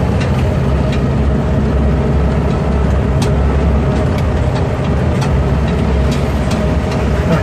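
A Pinzgauer six-wheel off-road truck lumbering over a rough urban road, a loud, continuous low engine rumble mixed with rattling and clunks from the body bouncing, heard from inside the cab.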